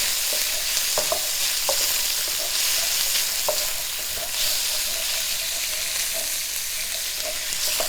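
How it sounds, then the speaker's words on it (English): Small pieces of chicken and vegetables being stirred and fried in a pan for fried rice: a steady, bright sizzle with scattered light scrapes and clicks as the food is moved around, with no talking. "let's move this around in the pan"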